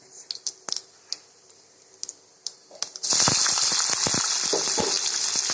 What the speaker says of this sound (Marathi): हे मी जिरे मोहरी आणि बडशे हे चांगले तळतळले